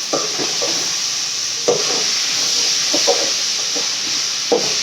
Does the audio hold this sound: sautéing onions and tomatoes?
yes